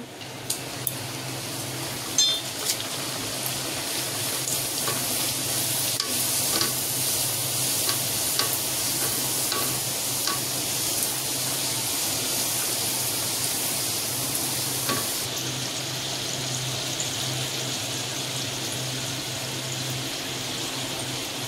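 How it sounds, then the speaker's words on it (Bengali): Vegetarian puris fry in hot oil with a dense, continuous close sizzle and bubbling that holds steady throughout, with an occasional faint tap of a utensil and no speech. "এবার আমি পুরিগুলো ভেজে নেব।"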